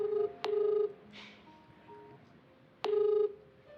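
A phone rings with two bursts of an electronic ringtone, each opening on a sharp click, separated by a quieter stretch of fainter tones.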